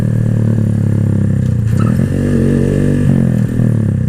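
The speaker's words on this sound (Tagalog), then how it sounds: "Tingnan nyo yung mangyayari pag di nyo sinamahan ng rev." A Keeway Cafe Racer 152 motorcycle engine drones loudly and steadily up close, then a gear shift made without revving brings a brief clunk and an audible shift in engine pitch partway through.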